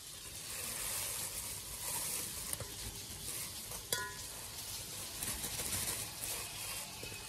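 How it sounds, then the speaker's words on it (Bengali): Sliced bitter gourd fries in a pan, giving a soft, even sizzle with occasional light clicks of stirring. A faint bird call sits in the background. "আর ওদিকে তো উচ্ছে ভাজা করছি"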